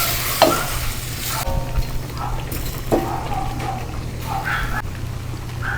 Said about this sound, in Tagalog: So, ang gagawin natin dito ay ilasangkot siya natin yung karne.